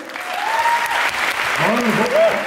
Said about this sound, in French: merci d'applaudir à nouveau et aussi généreusement Clément Lancoulot.